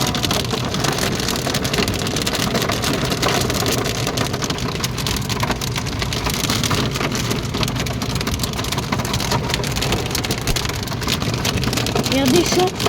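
A strong June thunderstorm brings steady heavy rain and hail, a dense unbroken roar of drops on surfaces that stays loud and constant throughout.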